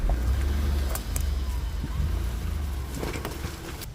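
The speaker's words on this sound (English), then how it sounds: "I'm going to try the mud hole in this one." Off-road vehicle on the Ozark Overland Adventure Trail driving through a mud hole: a steady engine rumble up close, with scattered splashes and knocks from the mud and chassis as it pushes through.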